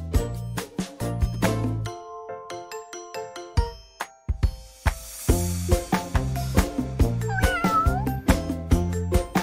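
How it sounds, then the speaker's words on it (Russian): A kitten meows a few times, with short rising cries mixed into a busy pattern of bright chiming, tinkling tones and plucked notes. "Что обычно говорит котенок? Правильно, мяу!"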